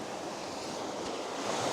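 Ocean waves washing onto the shore at Steep Point, a short burst of continuous surf wash mixed with wind noise on the microphone, fairly faint and without voices.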